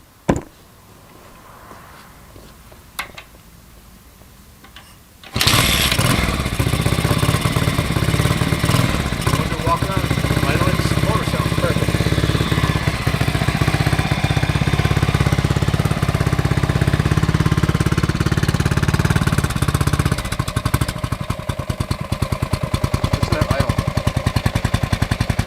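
A 1967 Harley Davidson Sprint motorcycle engine idles steadily and loud for about twenty seconds after a quiet start, its even running tone holding without a break.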